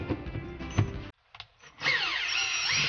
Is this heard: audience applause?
no